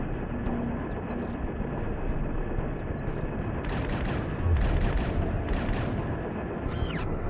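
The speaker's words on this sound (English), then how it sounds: "Good shooting, pilot." Gunfire in the PS2 helicopter combat game Fireblade: rapid bursts of shots crackle over a steady, loud engine and rotor drone, with several clustered volleys toward the end and no voices.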